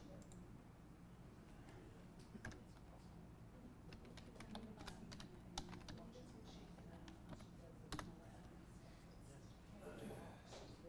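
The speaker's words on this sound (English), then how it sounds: "Let me type it in." A computer keyboard clicks with scattered keystrokes as a login is typed in, faint and intermittent over a steady background hum, with occasional louder taps.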